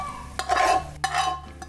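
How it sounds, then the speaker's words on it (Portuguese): Hot garlic and parsley mixture poured onto charred eggplant pulp, a short bright sizzle and spatter that flares twice in quick bursts, close up and loud with no talking. "Vou jogar quente em cima da polpa da berinjela."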